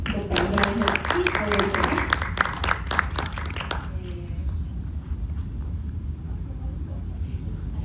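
Applause from an audience at a public speaking and presentation event, dense clapping for several seconds that fades out around the halfway mark, leaving quiet room noise.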